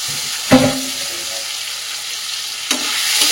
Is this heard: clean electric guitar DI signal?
no